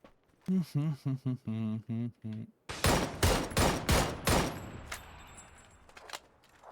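A voice talks briefly in Ukrainian, then a burst of rapid gunshots from the video game PUBG cracks out in quick succession, loud and close, with a ringing tail fading afterward.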